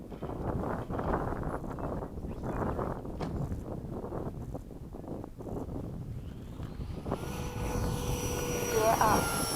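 FMS 80mm Hawk RC model jet diving with gear down for a fast touch and go, its ducted-fan whine steady and fairly loud throughout amid wind buffeting, rising toward the end as it passes close.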